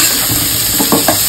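Mutton frying in a pan for boti gojju, stirred with soft scraping strokes over a steady sizzling hiss, with a few louder stirring bursts near the end.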